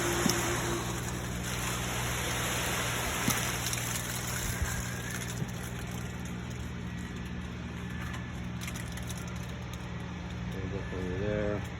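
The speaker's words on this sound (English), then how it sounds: "here we are pouring concrete in the forms" Wet concrete pours steadily into the stem wall forms for a shop foundation, giving a continuous rushing, sloshing wash with machinery droning underneath, loud and close throughout.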